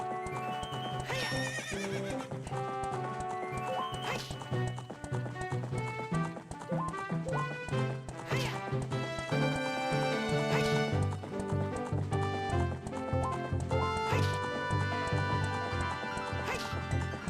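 A horse in Ocarina of Time 3D neighs and whinnies with hoof clip-clops, heard under bright game music that plays throughout, fairly loud and close.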